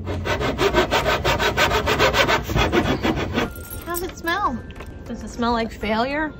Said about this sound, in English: Because that is the sound of cutting this tube.